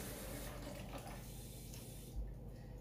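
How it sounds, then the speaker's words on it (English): Hot water runs steadily from a kitchen tap in a broad, even rush, close and fairly loud, then cuts off near the end. "I'm going to get a little bit of hot water from the tap."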